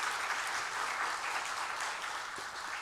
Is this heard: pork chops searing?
no